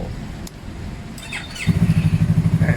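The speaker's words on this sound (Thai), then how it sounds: "เครื่องฟิตสตาร์ติดง่ายเช่นเคย" A 2016 Yamaha MT03 motorcycle engine turning over and catching, then settling into a steady, close, pulsing idle with a rhythmic low thump.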